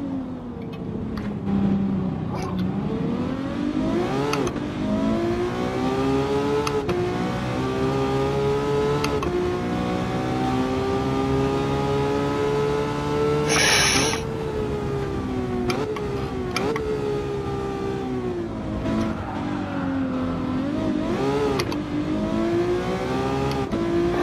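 A Ferrari F12 Berlinetta V12 roars through a racing video game, its engine revving steadily up and down through gear changes for the whole stretch, loud and continuous, with no talking.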